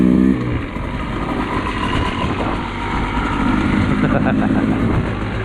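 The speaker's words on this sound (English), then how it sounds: "A day out on dirt bikes." Dirt bike engines running off trail in the rain, a steady rough motor drone throughout with slight swells in revving and a brief voice at the start.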